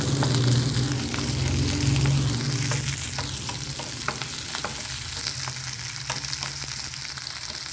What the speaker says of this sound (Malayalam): കട്ട് ചെയ്തെടുത്ത സവാളയും ഇട്ട് കൊടുത്തു ഇളക്കി കൊടുക്കാം